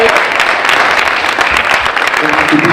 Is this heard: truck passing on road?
no